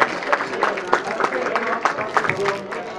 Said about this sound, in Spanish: Muchísimas gracias a todos y un fuerte aplauso